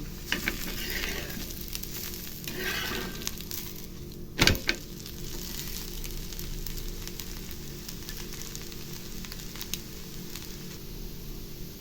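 Tomato dosa sizzling on a hot pan as it is flipped, a steady soft frying hiss with a sharp scraping clatter midway as the spatula turns it, then the sizzle continues.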